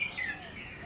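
A caged red-whiskered bulbul gives a quick pair of bright, high chirps, fairly faint, within a very short moment without speech.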